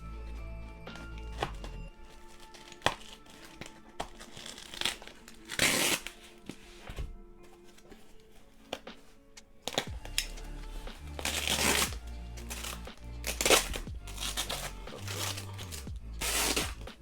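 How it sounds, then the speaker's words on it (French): A small box cutter slices open collectible figure packaging nearby, making irregular scraping, tearing and crinkling bursts with quiet handling noises between them and louder rips in the second half. "Un petit cutter."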